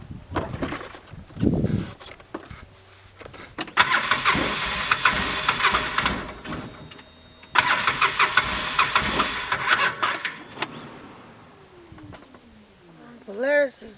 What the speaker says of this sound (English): I tried to hop into Polaris today, but that didn't work because it wouldn't start.